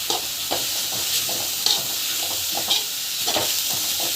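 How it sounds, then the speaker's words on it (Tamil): Ground spices, including chili powder and chaat masala, sizzle steadily as they are sautéed and stirred in a pan, with a continuous close hiss broken by scraping strokes of the spoon. "சாட் மசாலா ஆட் பண்ணி நல்லா வந்து வதக்கிக்கோங்க."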